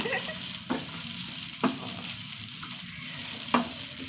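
Chillies and coriander dry-roast in a pan with a faint, steady sizzle, broken by three soft scraping stirs at regular intervals; quiet and close.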